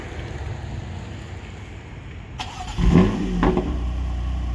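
A 2018 BMW M3 F80 fires up by remote start after a stretch of near quiet, cranking briefly before settling into a steady, fairly loud idle that continues to the end.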